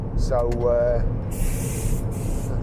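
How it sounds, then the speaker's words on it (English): A disinfectant spraying machine sprays a hydrogen peroxide mixture in steady hissing bursts inside a 2014 Ford Fiesta, with a brief voice and a rising tone early on. "Lancer's got yet another new machine which sprays a mixture of, I think it's hydrogen peroxide."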